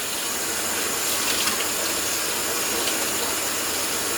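Cold tap water runs steadily and loudly into a kitchen sink over cooked potatoes, a continuous even hiss and splash with no talking.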